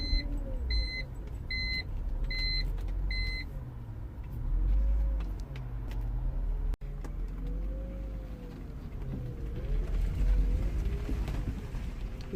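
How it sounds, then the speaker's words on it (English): A BMW 323i driving after a starting fault with the mass airflow sensor was repaired, with a steady low road and engine rumble, a short run of electronic beeps at the start and no talk. "the car is driving absolutely perfect with no lights, no nothing"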